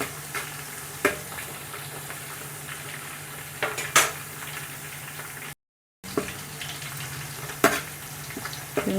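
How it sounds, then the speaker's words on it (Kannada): Mint and coriander frying in oil in a pan for veg dum biryani: a steady, soft sizzle with a few sharp clinks of stirring, no voices. "ಪುದೀನ ಕೊತ್ತಂಬರಿ ಚಲೋ ಎಣ್ಣೆ ಒಳಗೆ ಫ್ರೈ ಆಗೈತಿ"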